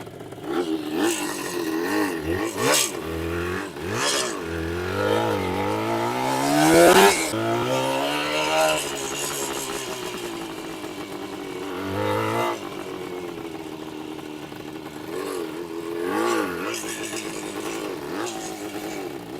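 The engine of a 1967 Yamaha YM2C 305 two-stroke motorcycle runs nearby, blipped through repeated rising and falling revs with a raspy, buzzing tone. The throttle swells sharply a few times over a steady idle.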